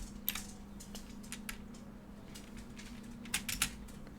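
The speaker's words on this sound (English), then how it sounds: "And you can hear me typing like an old lady." Scattered keystrokes on a computer keyboard tap in small clusters separated by quiet gaps, close by and soft, with a faint steady hum underneath and no talking.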